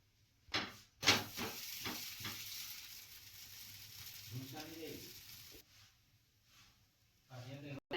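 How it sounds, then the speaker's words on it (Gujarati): A dosa cooks in ghee on a hot pan, giving a steady close sizzle with a few clatters at the start while someone talks over it. "ઘી લગાવી દેવાનું છે ઢોસામાં અને ક્રિસ્પી કરવાનું છે"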